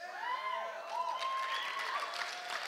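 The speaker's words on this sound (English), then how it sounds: "And the crowd goes wild again." A crowd cheers and applauds in a steady wash of clapping with whistle-like tones rising above it, loud and sustained, with no one speaking.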